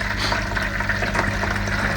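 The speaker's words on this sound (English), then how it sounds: "So this is the water that comes out of your pre-wash." Rinse water from a front-loader washing machine's pre-wash pouring out in a steady, loud, continuous splashing stream, close by, with no talk.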